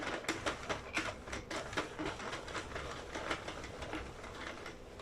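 A Sentro knitting machine is cranked to knit a yarn tube scarf, making a quick, steady run of rattling plastic clicks that sound close and fairly quiet, with no voices.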